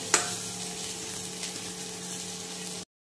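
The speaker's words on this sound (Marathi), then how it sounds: "तुम्ही बघू शकता छान असं मसाला परतून झालेला आहे।" Masala frying in oil for chicken rassa, a soft steady sizzle close by with a light clink at the start, ending abruptly in silence.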